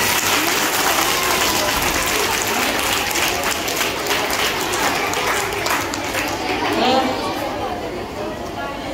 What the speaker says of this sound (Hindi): अब एक बार फिर से तालियां बजा दो अपने लिए।